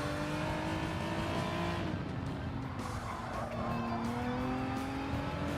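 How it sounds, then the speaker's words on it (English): A race car in a racing video game, a time trial at the Red Bull Ring, holds a loud engine drone while a thin tyre-scrub squeal rises briefly through the corner, with no voices. "A little bit of tyre scrub there."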